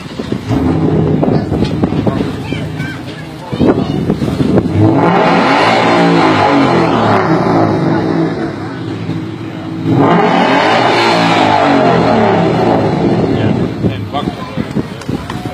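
At an exhaust rap contest, a Ford Mustang's exhaust blares in two long, loud, close revving bursts separated by a rougher idle, with wind buffeting and some voices around it.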